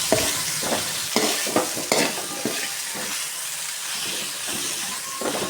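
Raw mango rice being stirred in a hot pan, a dense continuous sizzle and hiss with repeated scraping and clattering strokes of the spoon through the rice, close and fairly loud, with no talking.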